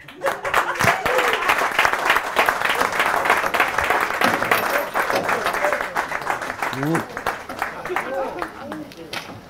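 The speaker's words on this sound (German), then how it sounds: "Sie können klatschen." Audience applause at a Cologne talk-show event, dense steady clapping from a live crowd that holds loud for the whole stretch, with some voices mixed in underneath.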